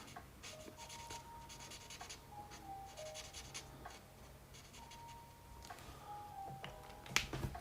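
Ohuhu alcohol markers colouring on paper, with soft repeated scratchy strokes and squeaky marker-tip streaks running through the whole stretch, close and fairly quiet, ending in a sharper tap.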